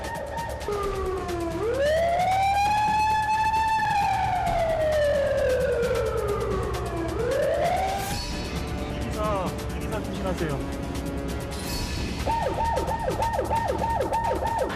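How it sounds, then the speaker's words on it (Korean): A loud blasting warning siren wails at the Inje-Yangyang tunnel construction site, rising and falling in long sweeps over a low rumble, while a voice briefly speaks. "다른 구역에서 사이렌 소리가 울린다"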